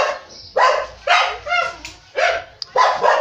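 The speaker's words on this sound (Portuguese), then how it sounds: "os cachorros latem" A dog barks repeatedly at close range, sharp yappy barks in an irregular series with short gaps between them.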